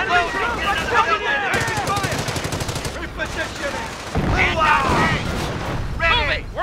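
Rapid gunfire in the World War II strategy game Company of Heroes, with machine-gun bursts and scattered shots rattling throughout over a busy battle din, while shouted soldier voices and chatter sit on top.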